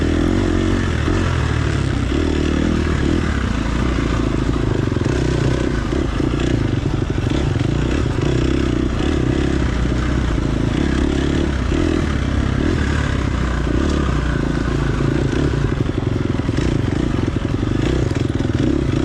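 A dirt bike runs a rough hare scramble course at McMahan's Ranch, its engine a steady, loud, close drone with clatter and scraping from rutted terrain throughout, no talk.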